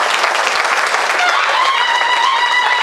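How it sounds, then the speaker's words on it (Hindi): An audience applauds hockey player Vandana Katariya at a Central Railway felicitation ceremony, a dense steady wash of many hands clapping for a few seconds with no pause. "क्या एक बार पुनः तालियां बज सकती है?"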